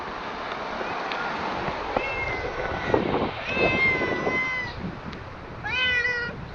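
A cat meows several times, thin rising and falling cries over a steady background hiss, the last few louder and closer together.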